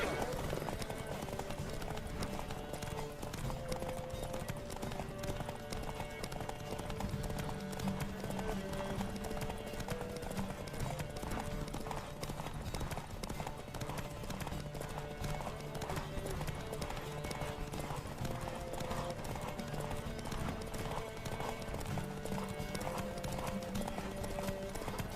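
Horses gallop in a race in The Witcher 3, their hooves drumming in a steady, dense clip-clop rhythm throughout, with an occasional whinny and faint voices beneath.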